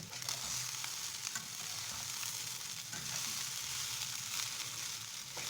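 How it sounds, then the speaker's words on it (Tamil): Ginger and garlic frying in hot oil for mushroom fried rice, a steady close sizzle and crackle with occasional stirring, with no voices. "இந்த மாதிரி நம்ம கோல்டன் ப்ரௌன் கலர் அளவுக்கு பொரித்து தனியாக நம்ம எடுத்து வச்சுக்கணுங்க"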